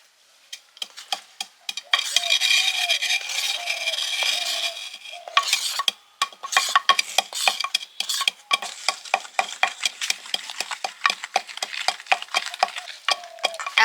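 Flour is stirred by hand into oil and sugar for a sponge cake batter, producing rapid, close scraping and clinking strokes against the bowl in an uneven rhythm, with a denser stretch of continuous mixing early on.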